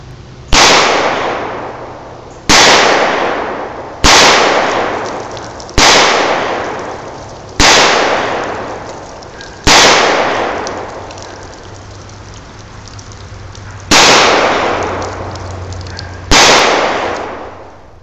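A Zastava M88A 9mm pistol fires Federal full metal jacket rounds outdoors at a cement block: nine loud, sharp single shots spaced about two seconds apart, each followed by a fading echo.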